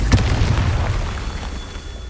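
A Confringo blasting curse in Hogwarts Legacy detonates as a single heavy boom with a sharp crack at the onset, followed by a rumbling tail that slowly fades.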